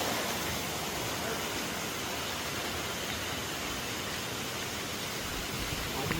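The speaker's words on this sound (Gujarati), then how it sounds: "ઝરણાનો અવાજ" Continuous rushing water from a nearby mountain stream among hills, a steady broadband hiss and burble with no breaks.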